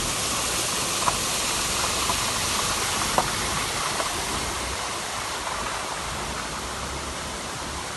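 A waterfall pours into the Idukki reservoir at Anchuruli in Kerala, a constant broad rushing hiss heard from a moderate distance, unbroken and with no talk over it.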